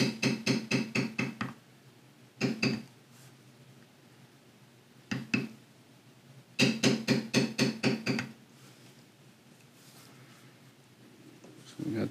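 Beveling tool struck by a mallet on leather while carving a horse head, heard as fast bursts of crisp repeated taps in several separate runs with quiet gaps between, close and fairly loud.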